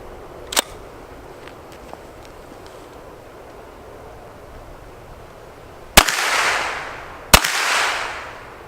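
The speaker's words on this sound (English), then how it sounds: "I'm shooting Winchester 115 grain white box" Three sharp carbine shots from a Hi-Point 995ts firing Winchester 115 grain white box ammunition at an outdoor range: one early crack, then two loud reports close together near the end, each followed by a rolling echo.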